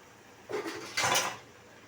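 A makeshift lid set over a cooking pan: two short metallic clatters, one light and one a bit louder, close by in a quiet kitchen with no talk.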